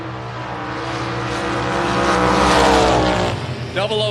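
A Corvette and a Mustang drag racing at a strip, engine roar swelling loud as the cars pass, then fading, with an announcer talking over it.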